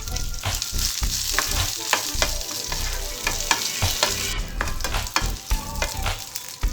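Tempering seeds, garlic and curry leaves frying in hot oil in a pan for a raw tamarind and okra chutney, a loud close crackling sizzle broken by repeated sharp stirring scrapes and spatters.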